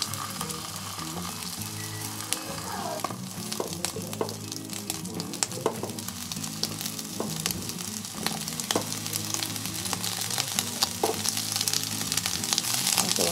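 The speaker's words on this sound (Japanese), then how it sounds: "フライパンを温めて、お餅をくっつかないように離して焼いていきます。" Mochi rice cakes frying in a heated frying pan, giving a steady, close sizzle with crackling pops throughout and clattering handling sounds on top, with no talking.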